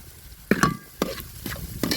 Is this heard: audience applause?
no